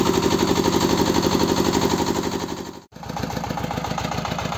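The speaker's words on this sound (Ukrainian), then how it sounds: "друзі, зараз прогріваємо тракторця і поїдемо рати" The engine of a Kentavr 160V walk-behind tractor warms up, running with a fast, rapid-fire chugging rhythm. It cuts out briefly near the middle, then resumes the same steady pulsing beat.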